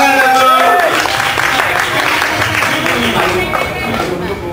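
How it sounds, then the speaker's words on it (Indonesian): An audience at a talk show breaks into applause, a dense patter of clapping that carries on steadily for several seconds while voices talk over it. "Tepuk tangan dong."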